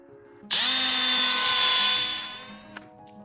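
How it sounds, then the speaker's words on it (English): A handheld power drill boring holes for a Raspberry Pi Pico pan-tilt camera build whines up sharply, holds a steady high-pitched motor drone for about two seconds, then winds down with a small click, close and alone. "So let me actually just go ahead and drill all of them."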